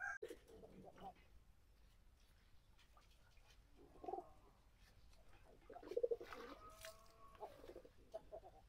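Pigeons in a pigeon farm give soft, low cooing calls in a few short bursts, faint and intermittent, while a person talks nearby.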